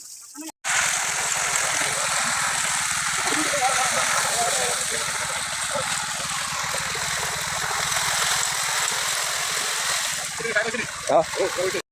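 A single motor-driven machine pumps water in a rural setting, giving a loud, continuous drone with gushing water that runs steadily for about eleven seconds after a brief quiet start.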